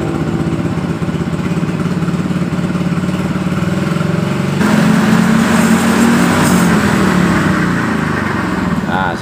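A Yamaha Mio 125 fi scooter engine idles loudly and close with a steady rattling drone, then the revs rise midway and hold higher before easing back.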